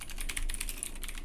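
Rapid keystrokes on a computer keyboard, a dense patter of light clicks at close range, with no voice over them.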